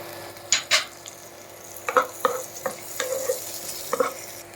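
Chopped green chilli frying in a pan for butter pepper chicken, with a steady sizzle and several sharp scraping strokes of a spoon stirring against the pan, close and fairly loud.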